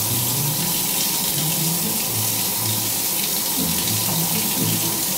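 Water being poured slowly into a mixture for an 1800s recipe, a constant splashing, trickling rush that stays loud and unbroken for the whole stretch, with no talking.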